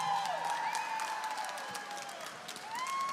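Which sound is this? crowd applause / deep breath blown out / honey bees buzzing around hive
crowd applause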